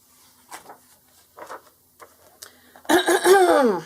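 A few soft, breathy sounds, then a voice imitates a loud, drawn-out cough with a rough, theatrical rasp at the end.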